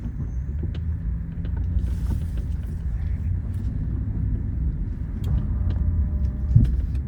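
A 2019 Ram 1500 pickup idles and pulls away in first gear, a steady low engine rumble swelling slightly as it strains, with a brief clunk near the end and no talk.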